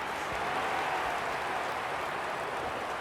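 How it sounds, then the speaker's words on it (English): A large stadium crowd at the MCG before a 2003 AFL qualifying final between Collingwood and the Brisbane Lions makes a steady, even roar with no clear peaks, heard at a distance. "The crowd already making plenty of noise as the captains come together."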